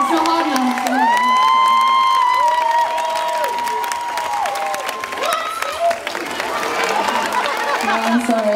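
Concert audience at a show clapping and cheering loudly and steadily, with whoops and shouts rising over the crowd noise throughout.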